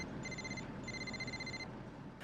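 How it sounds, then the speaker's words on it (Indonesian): A telephone rings faintly in two electronic bursts separated by a short gap, set over a low background hum, with no one speaking. "Tiba-tiba telepon bunyi."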